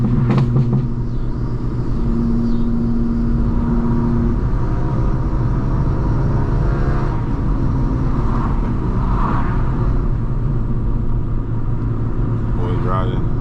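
Straight-piped 900 HP BMW M4 Competition cruising on city streets, a deep continuous exhaust rumble heard from inside the car beneath ongoing talk.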